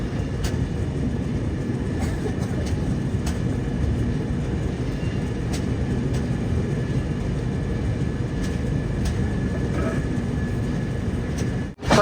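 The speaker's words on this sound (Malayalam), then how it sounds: "വിജയവാഡ റെയിൽവേ സ്റ്റേഷനിലേക്ക് ഇതാ ട്രെയിൻ എത്തിക്കൊണ്ടിരിക്കുകയാണ്." The Vivek Express pulled by a WP7 locomotive rolls into Vijayawada Junction, a steady low rumble of wheels and carriages with faint rhythmic rail clicks running throughout, then a brief disturbance at the end.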